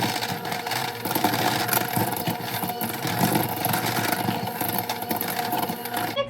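An electric mixer beats two sugars together in a bowl for caramel apple cake pops, giving a steady, continuous whirring drone that holds at an even level throughout with no talking.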